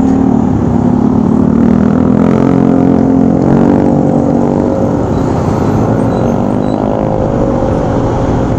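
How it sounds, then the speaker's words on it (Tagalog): Heavy road traffic with cars and large container trucks roars continuously around a moving rider at about 68 km/h, engines and wind noise blending into a loud, dense rumble with no pauses. "marami po mga sasakyan."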